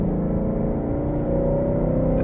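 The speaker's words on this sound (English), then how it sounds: "I like shifting down a gear." Engine of a 2019 Ford Mustang on a French hillside road around a downshift, a loud, close, tonal droning note holding steady through the whole stretch with no talk.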